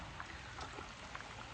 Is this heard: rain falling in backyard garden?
yes